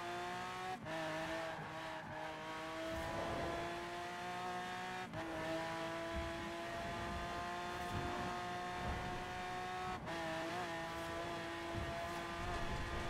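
Car engine in the Forza Horizon 4 racing game, a steady high-revving drone with sharp gear-shift breaks every few seconds, tire noise mixed in, running continuously without any talk.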